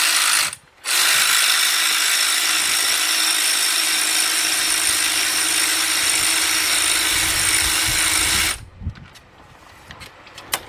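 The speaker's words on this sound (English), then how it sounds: "We got a 15mm shallow socket with my cordless impact, and I'll break that loose and break that one loose." A cordless impact wrench with a 15mm shallow socket loosens oil pan bolts on a 2005 Cadillac CTS 3.6 engine, a loud continuous rattling hammer burst lasting nearly eight seconds after a brief pause, followed by quieter clinks and handling noises.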